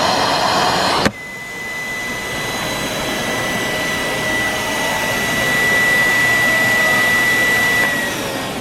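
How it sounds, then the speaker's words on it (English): A loud, steady mechanical suction roar with a high whine from a vacuum forming press starts abruptly after a brief moment and runs continuously, close by. "we're gonna turn our vacuum on."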